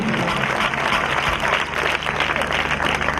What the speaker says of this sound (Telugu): కొట్టుగట్టిగా చప్పట్లు దేవునికి